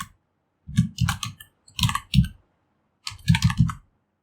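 Text being typed on a computer keyboard while building a website, arriving in three quick bursts of close, crisp key clicks separated by short pauses, with no talking.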